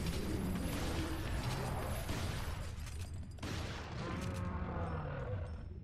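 Shotgun blasts in Resident Evil 4 HD, dense and loud, with booming shots and crashing impacts packed together in a continuous burst of game combat noise.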